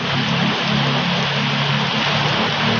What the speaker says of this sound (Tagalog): Ayan, umuulan